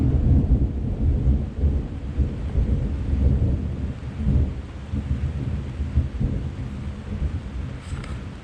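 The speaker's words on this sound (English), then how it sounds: "There's some big thunder" Deep, rolling thunder rumbles through a storm on a canoe trip along a northern river, long low booms swelling and fading over steady rain, without voices.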